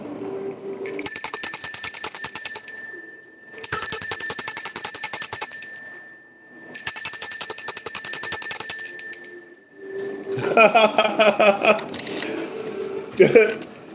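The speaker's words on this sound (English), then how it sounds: "I just heard the bell of victory." A bright metallic bell rings in three long rattling bursts, loud and close, followed by a jumble of clattering and other noises.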